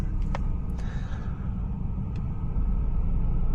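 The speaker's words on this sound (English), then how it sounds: "start the car up again." A car engine is restarted after the clutch is pressed back in, settling into a steady low idle rumble heard close by, with no talk over it.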